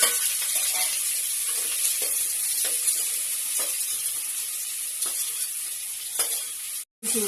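Four chopped onions and three green chilies fry in hot oil for a biryani, giving a continuous hissing sizzle with periodic stirring strokes, a brief dropout near the end and no voices.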